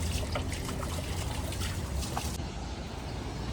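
Water splashes and trickles steadily over a goat's legs as they are washed, forming a continuous close wash of liquid noise with no clear pauses.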